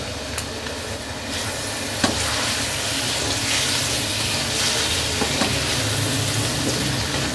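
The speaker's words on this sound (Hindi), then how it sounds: "अब चिकन को उस वक्त तक फ्राई करेंगे जब तक कि इसका कलर अच्छे से चेंज ना हो जाए" Half a kilo of chicken frying on high heat with chopped onions, a dense continuous sizzle with scraping stirs and occasional sharp clicks of a utensil against the pan, no talking.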